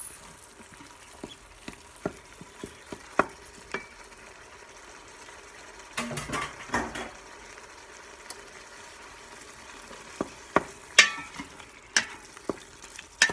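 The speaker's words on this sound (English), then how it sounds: "So while that is browning, and you want this meat to get completely brown" Ground beef browns in an Instant Pot with celery, onion and butter, a faint steady sizzle punctuated by scattered taps and scrapes of a stirring utensil.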